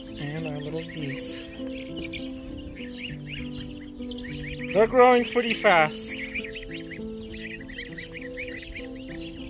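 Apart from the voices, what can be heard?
goslings (young African geese) chirping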